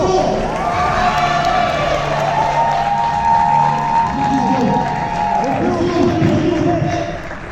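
Audience at a boxing gala clapping and cheering in a large hall, sustained crowd noise with a voice talking over it through the venue sound.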